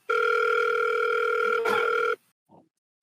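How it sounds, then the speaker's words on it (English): An unanswered phone call rings out as a single long, steady electronic tone that lasts about two seconds and then cuts off. A brief faint murmur follows in the silence. "everybody don't want to pick up the phone"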